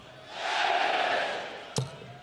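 Crowd at a World Darts Championship match between Luke Littler and Rob Cross booing, a broad swelling roar that builds and fades over about two seconds, ending with a brief sharp knock.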